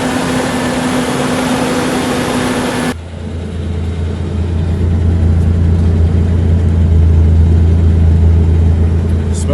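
A 1994 Ford Ranger XLT 4x4 pulled from a junkyard idles after starting, a steady low engine rumble that holds close and loud without a break for the whole stretch.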